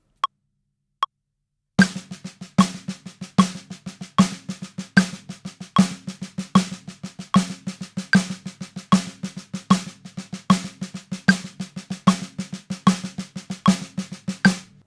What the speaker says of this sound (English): So quintuplets, if you have not heard them before, sound like this.